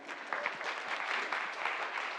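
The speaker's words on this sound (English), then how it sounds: "please give yourself a big clap." Audience clapping at an international fire-department disaster conference after an earthquake drill, a moderate, fairly distant round of applause that holds steady for a couple of seconds without speech.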